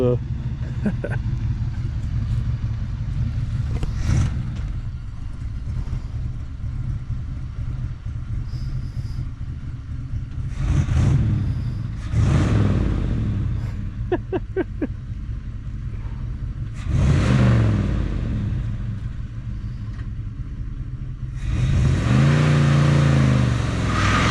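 A 1966 Ford Fairlane Z-Code with a 390FE V8 and 4-speed, driven for the first time in years, rumbles steadily close by, with several louder revving surges; voices talk intermittently over the engine.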